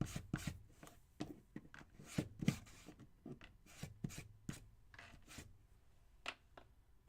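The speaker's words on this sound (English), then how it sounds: "I'm going to take my sandpaper, and I'm just gonna lightly go over this." Light hand sanding of a small wooden mini basket kit with sandpaper: quiet, close, irregular short rubbing strokes in quick bursts, with no talk.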